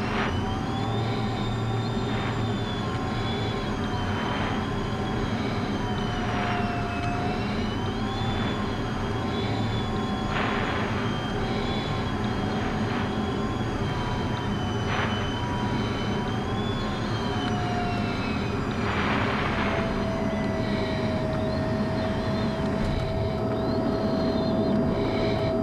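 An F-16 Viper fighter jet on approach to land at an air show in Houston, its steady engine roar filling the air continuously with a high whine drifting in pitch and no voices over it.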